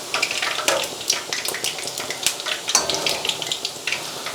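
Noodles frying in hot oil as a crispy bird's nest while being basted, an irregular crackling sizzle with sharp spits and pops, near and fairly loud, without speech.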